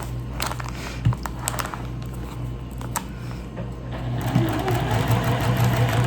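A sewing machine stitches fabric for a fabric tray with a steady mechanical hum and rapid needle chatter, close and even, with a few soft clicks and a slight pickup in pace near the end.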